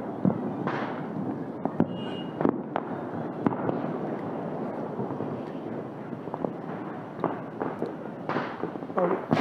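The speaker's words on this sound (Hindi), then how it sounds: "पटाखे ही बज रहे हैं ज़्यादा" Diwali firecrackers pop and crack repeatedly at irregular intervals, some near and sharp, others distant, over a steady background rumble.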